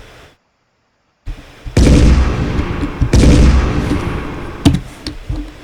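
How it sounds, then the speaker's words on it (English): Tank shells in an Unreal Engine game fire with heavy booming blasts, two big bursts and a sharp crack, after a brief silence, loud and close with reverberant tails. "I think the tank shells are bouncing."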